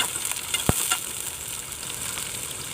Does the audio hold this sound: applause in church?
no